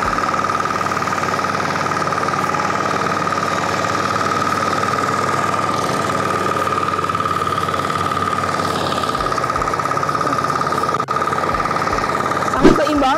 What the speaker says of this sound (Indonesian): Tanah-tanah sudah mulai dicacah dengan mudah dari mesin FTL 720D.